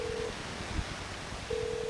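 Touch-tone dialing on a telephone while calling another phone, two steady beeps near the start and end with a low thump between, fairly close and alone with no speech.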